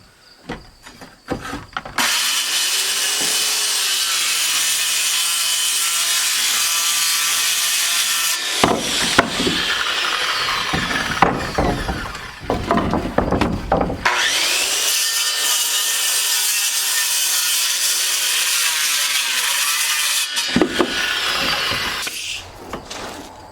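Circular saw cutting wood framing while building interior walls, with two long, loud whining cuts separated by brief pauses and clatter.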